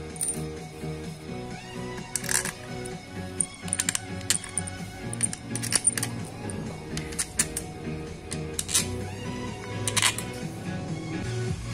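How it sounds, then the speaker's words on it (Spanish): Metal screws for the engine cover of an Italika FT 150 motorcycle being placed, giving repeated small metallic clinks and taps over a steady low background hum during engine assembly. "Vamos a colocar lo que son nuestros tornillos de tapa."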